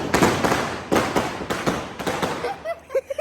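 Diwali time-bomb firecrackers burst in a rapid series of loud blasts outdoors in a village, each crack trailing off into rumble, with a few faint thuds and sharp pops near the end.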